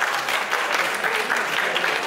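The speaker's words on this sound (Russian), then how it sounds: "еще раз аплодисменты нашим финалистам." Spectators at a salsa dance competition final applaud the finalists, a full, even roar of clapping that holds steady and close for the whole moment.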